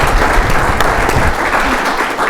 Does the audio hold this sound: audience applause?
yes